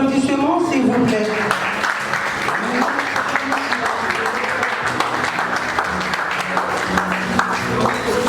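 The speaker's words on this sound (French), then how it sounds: "nous vous prions de bien vouloir vous lever avec vos applaudissements" Wedding guests standing and applauding at a ceremony, a loud, continuous crowd of clapping with voices and music-like tones mixed in at the start.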